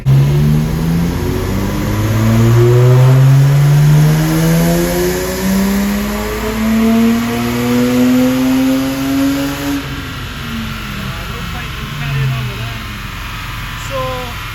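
A Lexus IS200 engine on a dyno revs hard and climbs steadily in pitch for about ten seconds, loud and close, then drops back to a rough idle with a voice speaking over it.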